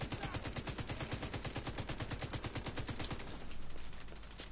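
Rapid sustained machine gun fire in The Division 2, a loud steady stream of shots for several seconds before easing into rumbling noise.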